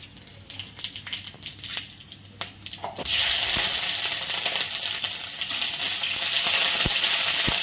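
Spices for a dal tempering are dropped into hot oil. A few faint clinks and taps come first, then a sudden loud sizzle starts about three seconds in and keeps hissing steadily to the end.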